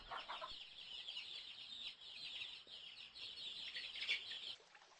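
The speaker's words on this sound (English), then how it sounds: "This is a chicken." Farm chicken clucking over a steady bird-chatter background, with faint, continuous fowl calls from a farmyard and no talking.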